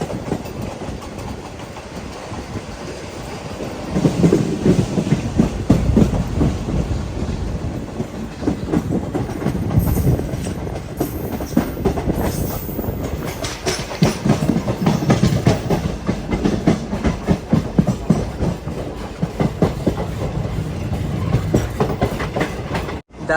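A Vande Bharat express runs from Shirdi toward Dadar station with a steady rumbling roll. Rhythmic clickety-clack comes from the wheels over the rail joints, swelling and easing in waves, and no voices are heard.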